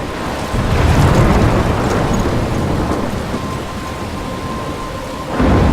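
A thunderstorm rolls through the game Life is Strange, with heavy rain hissing steadily and deep thunder rumbling, swelling early and again at the end.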